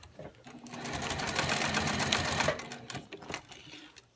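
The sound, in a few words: sewing machine stitching elastic on a gift bow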